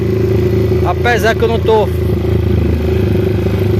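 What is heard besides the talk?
prototype motorcycle riding on the street, engine revving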